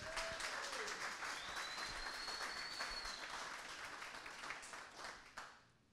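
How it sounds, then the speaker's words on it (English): A comedy-club audience applauds a stand-up comedian: a faint, distant wash of clapping that holds steady, then thins and fades out in the final second. "Everybody give another round of applause for Sigu."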